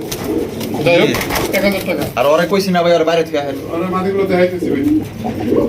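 Golla pigeons cooing steadily at close range, with someone talking over much of the cooing.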